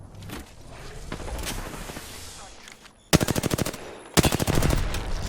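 Automatic weapon fire in a battle royale game, two loud close bursts of rapid evenly spaced shots after a stretch of quieter rumbling action and scattered sounds.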